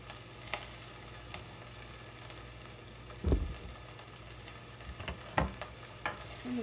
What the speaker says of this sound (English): we're going to saute along that with the onions